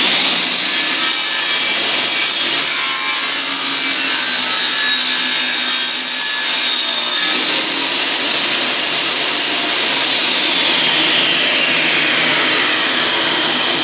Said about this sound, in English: So now we're going to cut this miter.